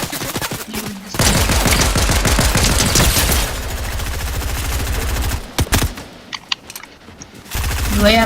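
Rapid automatic gunfire in a shooter video game, loud close bursts of machine-gun fire for several seconds, then scattered single shots and a pause before firing resumes.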